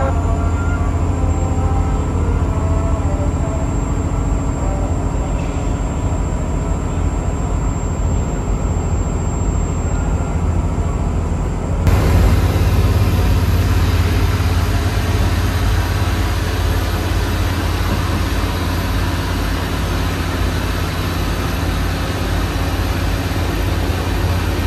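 A commuter train stands at a station in Indonesia, its steady engine and mechanical hum running loud and continuous, with a brief high tone early on and a shift in the rumble partway through.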